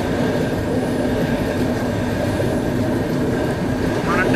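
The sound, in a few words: Coromandel Express train running on the rails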